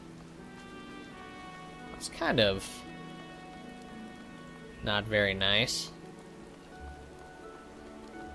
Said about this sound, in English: I mean, it's raining out.